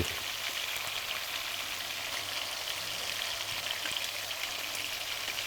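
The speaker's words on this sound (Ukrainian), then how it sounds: "Щоб обжарити з усіх боків." Pork ribs frying in a pan give a dense, even sizzle with crackling spatter, close and continuous throughout.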